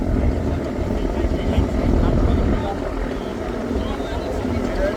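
Powerful passenger launch engines roar as vessels race at speed on the Meghna river, a loud, continuous low rumble with churning water and wind noise throughout.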